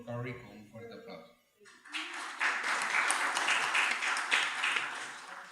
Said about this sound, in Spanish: démosle la bienvenida al doctor Curry con un fuerte aplauso